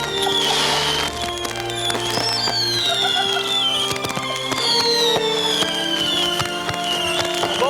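A Serpent's Tail firework goes off during a fireworks display, giving a dense stream of crackling pops with shrill whistling streaks that rise and fall, continuous and loud, with no talking.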